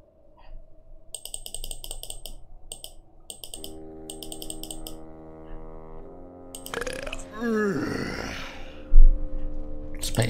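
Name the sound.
burping the alphabet in The Whispered World video game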